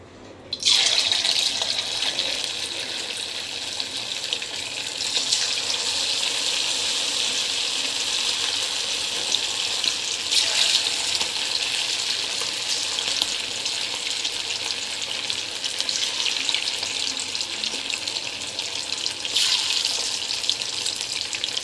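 Pieces of Chicken 65 deep-fry in hot oil, giving a loud, steady, broadband sizzle. The sound starts abruptly as the pieces go in and continues unbroken.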